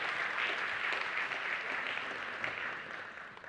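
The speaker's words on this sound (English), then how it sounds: "A round of applause, please, for Mr." A conference audience applauds Mr. Adamo at the African Markets Conference, a soft, fairly distant round of clapping that holds steady and then tapers off toward the end.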